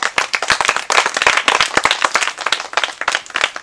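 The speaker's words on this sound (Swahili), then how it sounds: "Makofi jamani kidogo, makofi." A crowd claps steadily at a boxing promotion event in Tanzania, with dense hand claps close and loud throughout, without talk.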